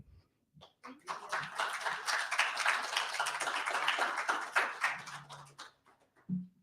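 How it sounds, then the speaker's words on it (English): An audience applauds at the close of a talk on violence in Native communities. The clapping rises after a brief gap and holds for several seconds at a moderate level, then fades out, and a voice comes in at the very end. "One more round of applause."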